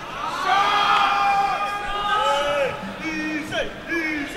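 A loud crowd cheers, whoops and shouts at a Call of Duty: Black Ops esports match on stage at ECL2, a sustained roar with rising whistles and yells throughout.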